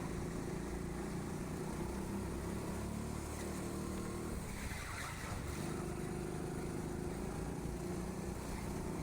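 A go-kart engine drones steadily on the indoor track at TeamSport Sheffield, a constant close buzzing roar that dips briefly midway before rising again.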